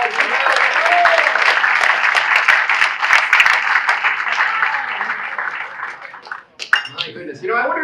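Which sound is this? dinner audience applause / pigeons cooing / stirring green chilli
dinner audience applause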